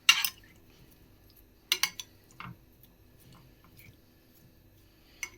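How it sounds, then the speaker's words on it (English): A spoon clinks and scrapes against a dish while mixing food for a budget toad in the hole, a few sharp sparse taps and knocks with quiet gaps between them. "Just get a spoon, just mix them round a little bit"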